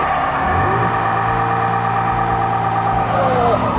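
2015 Ford Mustang doing a line lock burnout, its engine revving hard and holding a loud, steady roar throughout, with rising and falling harmonic tones as the revs shift.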